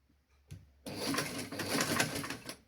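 A sewing machine stitches a child's garment, its rapid mechanical whirring starting in a short burst, then running steadily and close for about two seconds with no talking.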